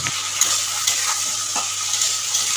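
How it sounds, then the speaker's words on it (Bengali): Okra seasoned with salt and turmeric is turned over in a pan, a steady soft sizzle broken by a few light scraping strokes of the spoon, close and even throughout. "নুন হলুদ দিয়ে একটু নাড়াচাড়া করতে হবে।"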